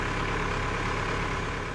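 Steady engine idling from EPA soil sampling equipment working the ground in Mount Greenwood, a broad continuous rumble held at an even level with no talk.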